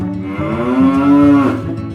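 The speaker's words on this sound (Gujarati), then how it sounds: "ગવરી ગાય" A cow gives one long, drawn-out moo lasting about two seconds, loud and close, rising and holding steady before trailing off, with no other sounds.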